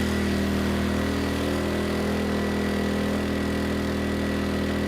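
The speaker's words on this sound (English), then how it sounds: "The engine not having any issue at all pulling that load." Erayak 4500PD tri-fuel generator engine running steadily under a 3,000 watt load, a constant loud droning hum with strong low tonal harmonics and no variation, no speech.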